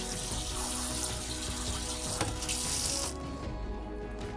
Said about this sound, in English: I'm gonna rinse mine just to cool them a little bit.